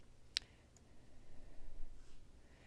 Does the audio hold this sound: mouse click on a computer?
yes